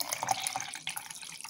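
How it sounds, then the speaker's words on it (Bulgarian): Cold water pours into a fine-ground oat mixture, a continuous splashing trickle up close with a slight shift in the flow partway through. "Сега добавям още студена вода."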